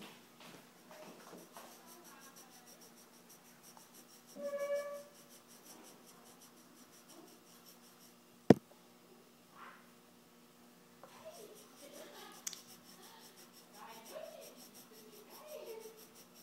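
A child colouring a drawing with a yellow pencil: soft, close scratchy strokes of pencil on paper in short bursts, with one sharp tap partway through and light breathing and faint voices in between.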